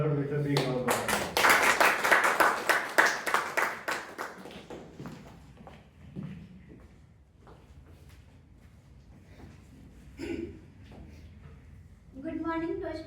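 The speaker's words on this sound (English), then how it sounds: "Rashmi, let us welcome her with a big round of applause." Audience applause greets a Toastmasters club speaker, a burst of clapping over the first few seconds that fades as her voice begins.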